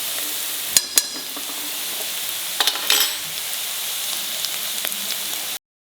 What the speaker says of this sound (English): It has to fry well, okay?